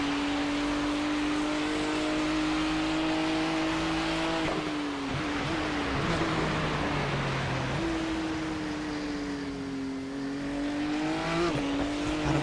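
Race car engines roar in the iRacing sim at Mosport, one car running in the slipstream of a BMW. Sustained high-revving drones shift pitch with gear changes and lifts, loud and continuous, with a second engine layered alongside.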